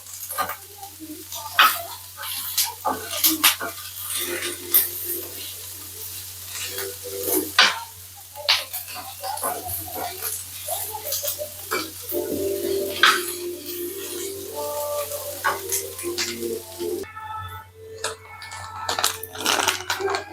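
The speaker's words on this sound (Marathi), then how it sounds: "आता तुम्ही बघू शकता कांदा आपला भाजायला लागला" Chopped onion roasting dry in a pan for Maharashtrian onion-garlic masala, with steady soft sizzling and frequent scraping, stirring clicks of a spoon against the pan throughout, fairly close and moderate in level.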